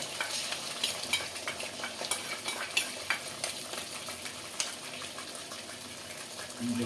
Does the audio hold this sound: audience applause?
no